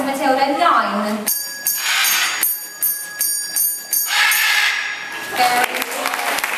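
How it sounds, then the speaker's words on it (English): A macaw at a zoo parrot show strikes a small bell repeatedly, bright metallic rings spaced out in a row amid crowd noise and brief applause-like bursts. "Please can we have 9 bell rings, Matilda?"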